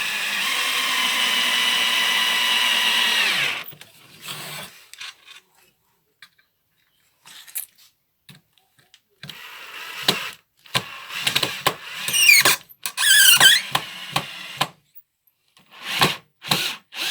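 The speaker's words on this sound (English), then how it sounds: "just screw it all together" A power drill runs steadily for a few seconds while screwing wooden blocks together for a small drum sander. Quiet handling knocks follow, then short whirring drill bursts and sharp clicks of parts being fitted.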